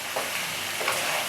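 Green mango pickle stirred with salt and chili in a pan, a soft continuous sizzling hiss with faint scraping as it is mixed, close and fairly quiet, without speech.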